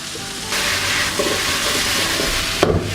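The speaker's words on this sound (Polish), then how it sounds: "No i teraz smażenie na większym ogniu przez około 4 minuty, często to wszystko mieszając." Chicken green curry vegetables, including green peppers and chili, fry over high heat in a wok with steady loud sizzling and occasional scraping stirs, nearby and without talk.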